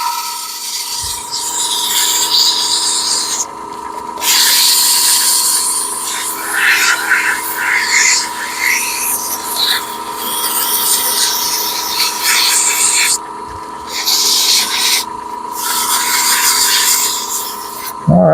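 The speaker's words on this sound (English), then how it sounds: "we'll start sanding. I'm going to start out with 120, and I'm going to sand in reverse." Sandpaper rubbing on a turned wooden spaghetti server, likely on a running lathe, a loud steady whooshing scrape with brief breaks and a constant motor hum beneath.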